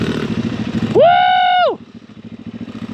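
A dirt bike engine chugs with a steady, rhythmic low pulse, broken by one short, loud, high-pitched rev that rises, holds for under a second and drops away.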